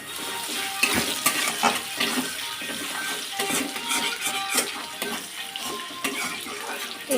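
Onions fry in oil in a pan for a Desi-style rohu fish curry, with a steady, busy crackle and sizzle running throughout and occasional brighter spatters. No voices.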